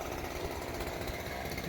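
A chainsaw cuts overhanging tree branches during yard maintenance, giving a steady, dense buzzing roar that runs continuously for the whole short stretch with no talking.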